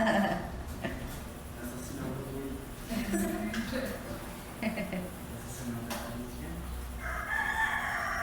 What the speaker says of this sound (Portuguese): E o nosso querido Galo, companheiro de todas as tardes